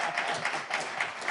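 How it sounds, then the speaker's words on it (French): An audience applauds John at a live show, with dense, steady clapping from a crowd that stays loud and even throughout, no voices standing out. "Applaudissez John."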